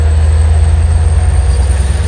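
A Long Island Rail Road dual-mode train rumbles steadily and close in snowy conditions, a heavy low engine drone with a rhythmic pulse throughout.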